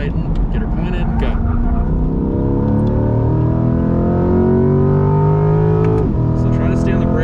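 A Corvette C8 accelerating on a race track at a high-performance driving school, its engine droning loud and steady with rising and falling pitch throughout, heard from inside the car as an instructor talks over it.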